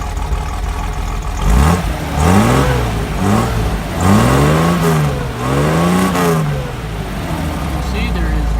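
An old car called Big Blue, number 48, runs after a cold start, its engine idling with several rising and falling rev blips in a row.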